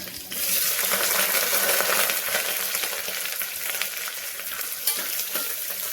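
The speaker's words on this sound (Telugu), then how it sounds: "నెక్స్ట్ మనం తరిగి పెట్టుకున్న పచ్చిమిర్చి, అట్లాగే ఉల్లిపాయ" Chopped green chillies and onion fry in hot oil for a methi leaf pulao, a loud, steady close-up sizzle lasting throughout with faint stirring clicks and no voices.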